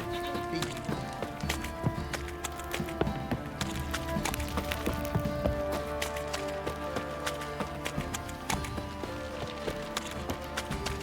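Horse hooves clip-clopping at a run in The Witcher 3, a steady patter of hoofbeats mixed with game music and ambient sound throughout.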